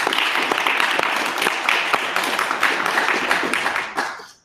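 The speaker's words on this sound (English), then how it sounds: "Everybody, could you please give Jack a round of applause?" A room audience gives a round of applause at a space-industry talk in Melbourne, steady dense clapping throughout that fades out at the end.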